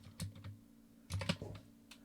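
Quiet keystrokes on a compact 40% computer keyboard, a few separate clicks in two small bursts with pauses between them, close and soft in an otherwise quiet room.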